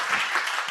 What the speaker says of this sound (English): it's round of applause to all of you